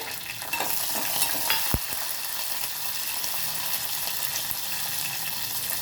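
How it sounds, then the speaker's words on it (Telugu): Green chilies frying in a hot pan for ivy gourd chutney, giving a steady, close sizzle with light stirring scrapes throughout and no talk. "ఇప్పుడు పచ్చిమిర్చి కూడా వేసుకోవాలి."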